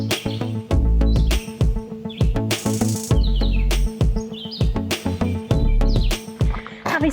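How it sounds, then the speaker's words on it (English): Birds chirp and sing along a summer trail in Parkland County, with bright repeated calls. Loud, rhythmic low thuds, probably footsteps, run through the song. "hearing those birds sing sure feels like summer"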